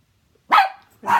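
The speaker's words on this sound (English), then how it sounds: "My doggies is crying." A dog gives two sharp, close whining barks about half a second apart, each rising and then trailing off, in an otherwise quiet space with no talking.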